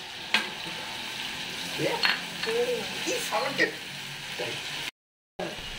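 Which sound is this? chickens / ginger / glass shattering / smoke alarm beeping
ginger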